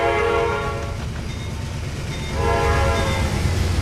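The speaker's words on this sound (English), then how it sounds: "there's the automatic whistle" Automatic locomotive whistle in the Trainz 2022 railroad simulator, two steady horn blasts with a short gap between them, sounding loud over a continuous rumble of the rolling train.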